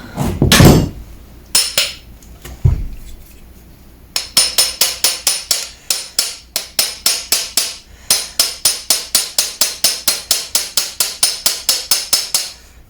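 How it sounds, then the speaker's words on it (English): A few heavy thumps, then a long run of rapid, evenly spaced hammer taps on copper radiator pipe with a bright, ringing ping on each strike. "So I'll tuck that in there with the hammer."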